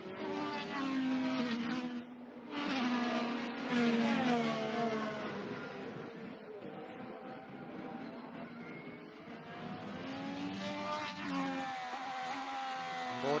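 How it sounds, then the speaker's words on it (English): IndyCar race car running over the curb at the Children's of Alabama Indy Grand Prix road course, a loud engine whine sweeping up and down in pitch as the car passes, with rough bursts of buzzing noise over roughly thirteen seconds. "That's the car that you're hearing over the curb."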